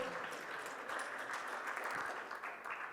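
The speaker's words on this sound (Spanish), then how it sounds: "a quien también le damos un fuerte aplauso." An audience at a security summit applauding a speaker, a continuous quiet patter of many hands clapping, somewhat distant and faint, steady throughout.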